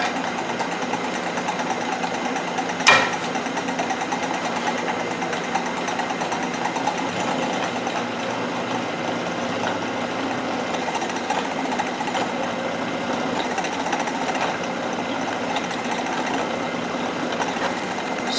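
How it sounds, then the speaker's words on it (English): A power drill with a pilot bit whines steadily for a long stretch as it bores through a metal bracket, a continuous buzzing motor with a brief sharp click early on. "I can use my pilot drill to work through the part"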